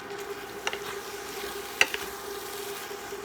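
Vegetables and pork stir-frying in a pan, a low continuous sizzle broken by a few sharp clinks and scrapes of a utensil as the food is moved around, close and without talking.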